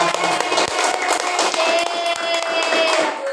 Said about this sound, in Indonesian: kita kasih aplaus dulu buat kelompok 1